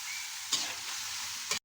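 Frog meat frying in a hot pan gives a steady, close crackling sizzle with two brief louder spatters, and there is no talk.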